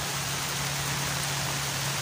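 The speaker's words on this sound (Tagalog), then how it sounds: "Umuulan na guys." Heavy rain falls steadily near a banana tree and its broad leaves, a dense, even hiss with no break and no voices.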